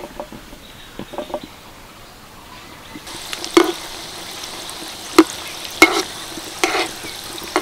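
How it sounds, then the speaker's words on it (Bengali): Mini singaras deep-frying in hot oil as they are stirred, a soft steady sizzle under a few sharp scraping clicks and knocks of the utensil against the pan, close and fairly quiet. "এই দেখুন সিঙ্গারাগুলো দেওয়ার পর হালকা হালকা বাবলস উঠছে।"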